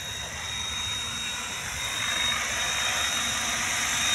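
A KDS 550 RC helicopter flies over a university field, its steady rotor and motor whine holding at an even, fairly loud level throughout with no pauses.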